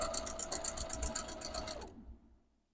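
A sewing machine stitches a quarter-inch seam on a junk journal cover, a fast rhythmic run of needle clatter for about two seconds that then stops abruptly and fades to silence.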